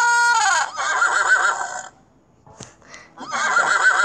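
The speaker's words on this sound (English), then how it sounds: "That is a horse." A horse whinnies loudly and close up, a long wavering neigh that breaks off, a short pause with faint clicks, then a second shaky whinny starts, with no talking over it.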